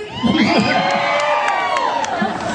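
A large protest crowd cheers and screams loudly and continuously, high-pitched shrieks layered over a dense roar of voices.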